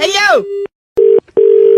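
Telephone tones after a call is hung up: three loud, steady electronic beeps, the first short and the next two longer, separated by silent gaps, following a brief burst of speech.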